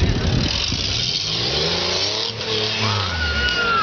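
An off-road rock-crawler engine revs hard and steadily as the vehicle climbs over rocks in a competition course, a loud, continuous mid-pitched roar that rises in pitch toward the end, close to the listener.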